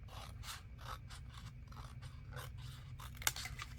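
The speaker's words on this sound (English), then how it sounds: "I think I'm going to cut a little bit of it off." Scissors snipping a paper flap, a series of quiet crisp cuts in an irregular rhythm with one sharper click near the end, faint and close.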